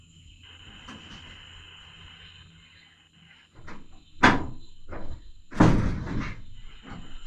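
A door heard from inside a house, opening and then slamming shut twice in quick succession, loud and close with sharp thuds standing out against a quiet background hum.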